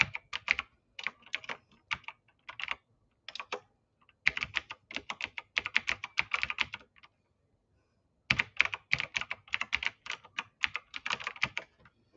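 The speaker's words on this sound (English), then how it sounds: "Oh, you have to type it." Typing on a computer keyboard in bursts of rapid, crisp key clicks separated by short pauses, close and clear with no talking.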